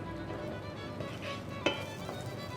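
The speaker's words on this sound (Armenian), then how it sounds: "Մի թեթևակի տապակում ենք, երբ որ արդեն զգում ենք, որ շատ աղմկում սիսերը" Chickpeas sizzle in a pan in a lightly frying Armenian home kitchen, a soft continuous hiss with one brief clatter partway through.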